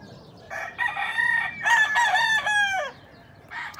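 A fine-feathered hen clucks and a rooster crows loudly and close at a market stall, calls rising and falling in a few strong bursts with no talk.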